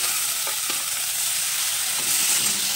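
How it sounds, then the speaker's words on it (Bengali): Chopped tomato lands on carrots frying in a pan, giving a steady close hiss and sizzle with a few faint stirring scrapes and no voices. "গাজর ভাজা ভাজা হয়ে গিয়েছে, এখন দিয়ে দেবো টমেটো কুচি।"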